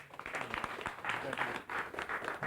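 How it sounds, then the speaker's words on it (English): Applause at an awards ceremony: a short burst of clapping from a small crowd, moderately loud and uneven, rising and dipping in waves with a faint voice underneath. "So he deserves a round of applause for all his hard work"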